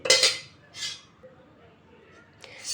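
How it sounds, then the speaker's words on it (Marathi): A spoon scoops homemade curd from a pot onto a cloth-covered strainer while shrikhand is made, producing a few sharp metallic clinks and scrapes separated by quiet pauses. "ह्या चाणीवरती आपल्याला ह्या चमच्याने आता दही ओतून घ्यायचं आहे"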